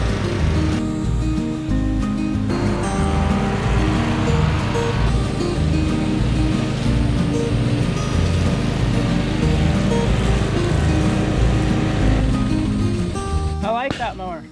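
Toro Timecutter Z4200 zero-turn riding mower running steadily while cutting grass, a loud continuous engine drone with shifting tones throughout, close by.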